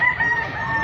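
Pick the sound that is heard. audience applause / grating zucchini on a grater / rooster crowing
rooster crowing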